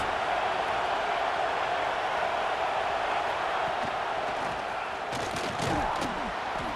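Stadium crowd at a college football game, South Carolina vs Alabama in Tuscaloosa, roaring on a big third down, a dense sustained wash of cheering and noise with a few sharp bangs near the end.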